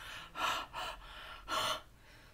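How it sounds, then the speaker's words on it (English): Several loud huffing breaths blown close up onto an American Crafts stamp marker, two quick gasping puffs followed by a longer one after a pause, with no talking. "Please excuse my non-stop wheezing."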